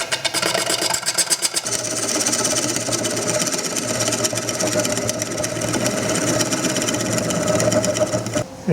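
A wood lathe spins a wooden tray while a turning tool makes a scrape cut, giving a continuous loud whirring and scraping drone with no talking.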